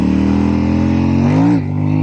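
A Royal Enfield Super Meteor motorcycle engine idles close and loud, then revs up briefly before settling back to idle.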